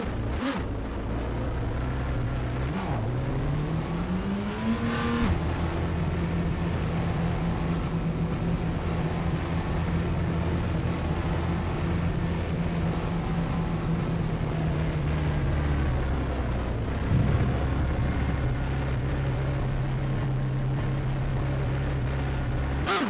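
A race car driven on a DLC track in the video game rFactor 2: a steady engine drone with rising and falling pitch as the car accelerates and shifts, continuous and fairly close.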